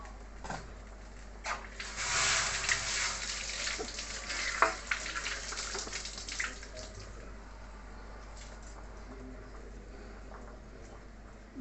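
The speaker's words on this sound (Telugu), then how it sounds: "ఉడుకుతుంది." Tomato tamarind curry bubbling in a pot, a soft, steady simmering hiss with a louder burst of sizzle early on that settles into a quiet, even bubbling, close and without talk.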